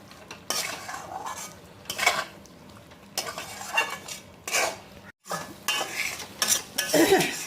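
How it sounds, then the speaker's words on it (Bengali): Fried pointed gourd being stirred and sautéed in a spice masala for a yogurt-based curry: repeated spatula scrapes and pan clatter over a soft sizzle, close and fairly steady, with one brief pause. "পটলটা এখন ভালো করে একটু নাড়াচাড়া করে কষে নিচ্ছি।"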